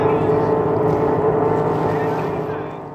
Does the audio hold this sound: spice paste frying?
no